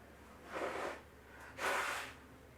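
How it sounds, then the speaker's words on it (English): A person blows their nose in two forceful bursts separated by a short pause, the second one louder and longer, close up in a quiet room. "Let me blow my nose."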